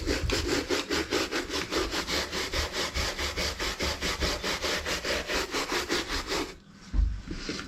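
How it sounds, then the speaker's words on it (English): Stiff brush dry brushing leather hiking boots with quick, rhythmic back-and-forth scrubbing strokes, close and even, stopping abruptly near the end. "we'll just get a stiff brush and start dry brushing it again."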